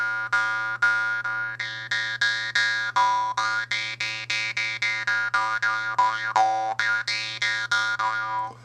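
A Jew's harp plays a quick rhythmic tune of twangy plucks over a steady low bourdon drone, close and clear with no talk.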